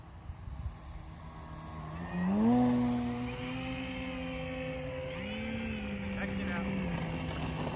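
A Hangar 9 Carbon Cub 15cc RC plane with black props takes off in rainy weather, its engine note rising from a steady drone into a loud climbing whine, then settling and swelling again as it flies.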